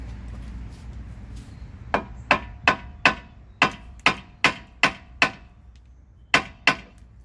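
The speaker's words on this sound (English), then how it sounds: "So I'm going to tap this ball joint down a little bit so it comes off of the" Hammer tapping a lower ball joint loose from the steering knuckle of a Nissan Pathfinder, about ten sharp metallic strikes in an uneven rhythm, close and loud over a quiet garage background.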